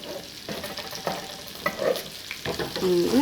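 Browned garlic and onions sizzle in a pan during macaroni béchamel preparation, a moderate frying hiss punctuated by clinks and scrapes of stirring, with short tonal squeaks from the utensil against the pan.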